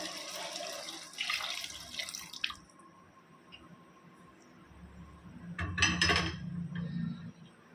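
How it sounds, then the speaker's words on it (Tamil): Mutton cooking water is poured into dried masala in a pan, splashing and trickling in two distinct bursts separated by quieter dripping, with a soft sizzle underneath. "இப்போ வந்து நம்ம கறி வேக வச்ச மட்டன் தண்ணியை வந்து இதில் சேர்த்துக்கலாம்"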